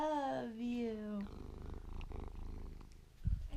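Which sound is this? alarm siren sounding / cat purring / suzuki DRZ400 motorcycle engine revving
cat purring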